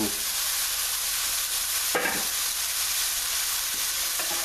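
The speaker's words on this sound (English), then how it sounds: "look how easy everything sautés" Vegetables sauté in a wide pan over a flame, a steady loud sizzle running throughout with a couple of brief spatula scrapes and no one speaking.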